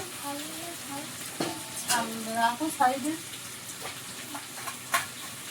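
Meat being stir-fried as kosha in a pan, a steady sizzle with occasional stirring scrapes and clinks, with faint voices and other sounds in the background.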